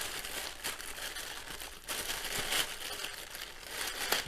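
Blunt scissors cut open a typical grey plastic mailing bag, giving faint, close crinkling and rustling of thin plastic with a few sharper snips and crackles.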